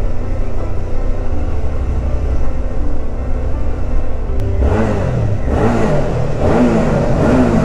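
Suzuki V-Strom 650 motorcycle on its stock exhaust, a steady engine drone under rushing wind that rises into a few loud revving surges partway through.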